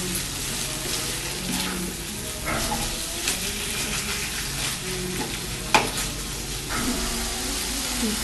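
Chicken mince mixture for a Bengali potoler dorma filling frying in a pan, a constant close sizzle broken by scraping stirs and one sharp knock of the spoon.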